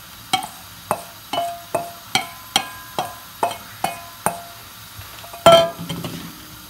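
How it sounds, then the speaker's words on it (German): A metal utensil knocks steadily against a pan as onions are stirred into chicken browning in it, a dozen evenly spaced clinks close by, with one louder clatter near the end. "Nun ist unser Hühnchen etwas warm, etwas angebraten und jetzt geben wir Zwiebeln hinzu."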